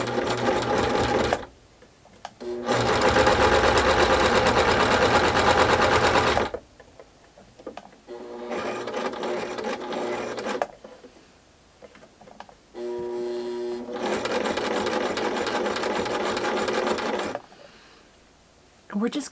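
A sewing machine stitches quilt pieces for a doll quilt in loud rapid bursts of mechanical chatter, running a few seconds at a time and separated by short pauses, with softer clicks and handling noises between runs.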